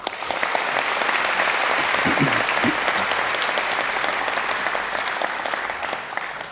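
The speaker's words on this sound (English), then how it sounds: "they deserve your applause too" An audience at a university graduation ceremony gives sustained, dense applause with many hands clapping together. It swells early, holds steady and slowly thins toward the end, with a few faint voices mixed in.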